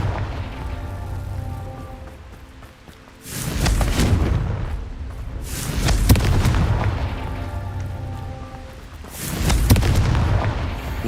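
Confringo blasting spells in Hogwarts Legacy go off as three heavy, rumbling explosions spaced a few seconds apart, each a loud boom that rolls out and fades with no voices.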